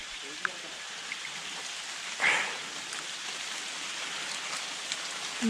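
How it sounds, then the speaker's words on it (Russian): Steady rain falling in a forest near a mountain summit, a soft continuous hiss of drops with a few louder patters and a brief closer splash, fairly faint and without talk. "Ну вот еще и дождь пошел."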